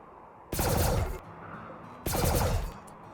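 Two short bursts of rapid gunfire ring out in RimWorld, each lasting under a second with a brief quiet gap between, moderately loud and unaccompanied by speech.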